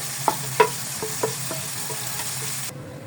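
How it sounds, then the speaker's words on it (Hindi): Minced beef fries with onion in a pan, giving a steady close sizzle broken by several short stirring scrapes and clinks, before it cuts off abruptly. "जब तक कीमा हल्का सा फ्राई हो रहा है"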